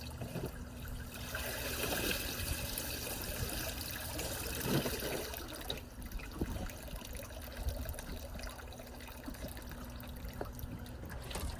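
Water streams and trickles steadily out of a pool cleaner, a close, continuous wash of draining water with no pauses.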